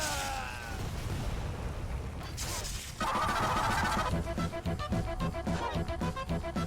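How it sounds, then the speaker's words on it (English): A flak cannon in Quake Champions fires amid frantic combat, with a dense run of sharp, rapid bursts and metallic mechanical clatter following an explosive blast, loud and continuous with no talking. "Oh, I love the fucking flak cannon."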